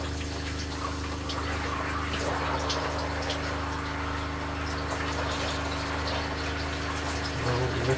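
Water runs steadily from a camper RV shower, a continuous broadband hiss and splash with a low pump-like hum beneath, close and even throughout the clip.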